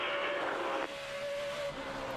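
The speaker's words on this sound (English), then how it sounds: "you can hear the engine rev up on the straightaway" A race car at the 2008 Sharpie 500 roars down the straightaway, a steady high engine tone holding for about two seconds before easing off, heard from a moderate distance with no talking.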